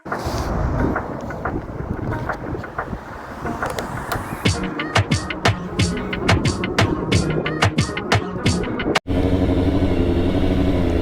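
A motorcycle rides out of a parking garage, its engine rumbling and revving amid wind noise, with sharp clicks and knocks in the second half and a sudden change in the sound near the end.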